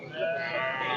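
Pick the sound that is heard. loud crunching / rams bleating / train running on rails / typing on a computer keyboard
rams bleating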